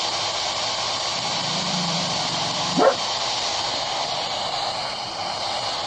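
A single short dog bark rings out once amid a steady background hiss on a dark back porch, with a low growl-like rumble just before it and no talk.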